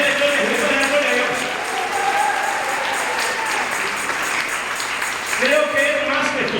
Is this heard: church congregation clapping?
yes